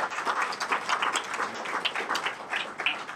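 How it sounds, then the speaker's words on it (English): An audience at a branding presentation in Wenatchee, Washington breaks into applause, a dense, steady patter of many hands clapping together, fairly close and sustained without talk. "You all should applaud yourselves."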